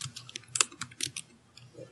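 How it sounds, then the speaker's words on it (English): Someone types on a computer keyboard over an open microphone during an online tabletop game session, a quick irregular patter of key clicks, fairly close and alone. "Whoever is typing, please turn off your microphone while you do so. It's noisy."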